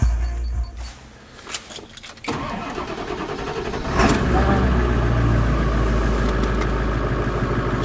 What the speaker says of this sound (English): start the truck up